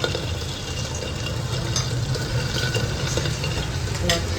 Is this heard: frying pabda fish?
yes